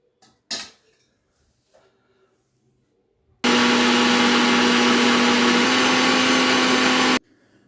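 An electric mixie grinder switched on after a few kitchen clinks and thumps, running as a loud, steady, close whine for about four seconds before cutting off abruptly, with no talk.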